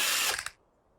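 A power tool briefly whirs and ratchets while unscrewing a screw in the video game Car Dealer Simulator, a loud bright buzz lasting half a second that cuts off into near silence.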